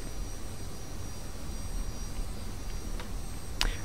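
The steady, broadband roar of an F-86 jet engine at reduced thrust in the flight simulator DCS World runs evenly throughout, with a couple of brief clicks near the end.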